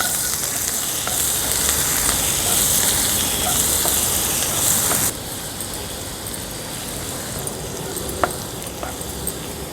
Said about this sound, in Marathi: आता कांदा आपल्याला छान शिजवून घ्यायचा आहे